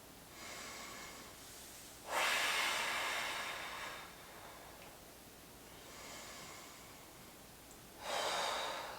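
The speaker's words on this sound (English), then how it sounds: "Let's take 2 deep breaths." Two deep breaths taken during a Pilates workout, each a loud, close rushing exhale standing out over quieter background breathing, with no talk.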